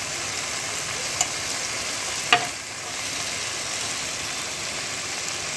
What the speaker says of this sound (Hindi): अच्छे से इनको हम दूसरे साइड से भी फ्राई कर रहे हैं।